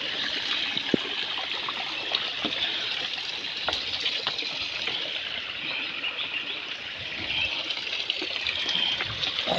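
Spring water wells up from the ground and flows in a continuous bright rush and trickle, close and steady, with faint bird calls in the background.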